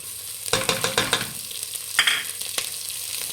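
Mint leaves fry in hot oil for pudina rice: a steady close sizzle runs throughout, punctuated by several sharp spoon-against-pan stirring clacks, with no talking.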